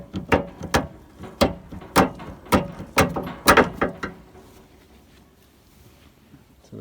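Cotter pin and axle nut being worked off a wheel hub on a farm running gear, a series of about a dozen sharp metallic clanks and taps in irregular rhythm, close by, then fading to quiet.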